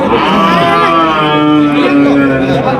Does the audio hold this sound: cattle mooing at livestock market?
yes